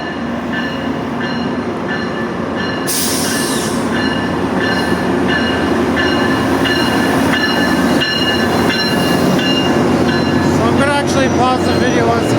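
GO Transit commuter train hauled by an MP54AC locomotive with twelve cars pulling into a station, a loud close rumble of wheels and engine with steady high squealing tones, clicking rail joints and a sharp burst of hiss partway through.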